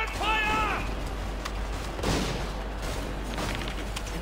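Musket volleys in the video game Assassin's Creed 3, during a Redcoats attack: scattered cracks and a heavy boom near the middle, mixed with a brief musical flourish and battle noise.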